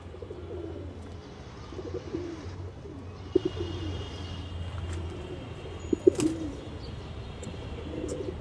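A domestic pigeon coos in soft, low, repeated phrases close by, with a few faint chirps and light knocks over a quiet background.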